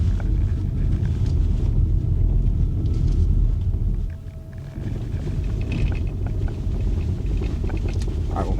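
A Hyundai car on a quality test drive at the Georgia Metaplant steers through a series of small S curves, its steady road and engine rumble continuous and fairly loud, dipping briefly midway before resuming.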